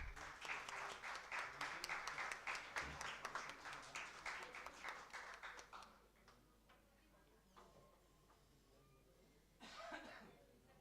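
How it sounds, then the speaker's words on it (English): Audience applause at an academic event on stage, steady clapping for about six seconds that tapers off, followed by scattered faint claps and a brief final burst. "Give him a big round of applause."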